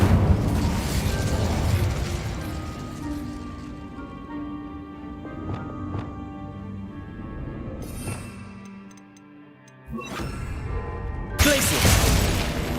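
A fire spell cast in the Hogwarts Legacy video game bursts out with a whooshing blast over a busy game soundscape. A quiet pause follows, then another loud burst near the end.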